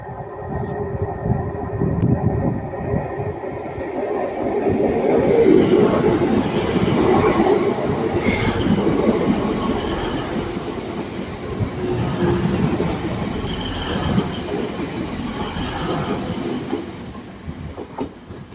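A Class 185 passenger train runs past at Ardwick, near Manchester Piccadilly, with a swelling rumble, rhythmic wheel clatter and faint squeal, loud and close, fading out over about eighteen seconds with no talking.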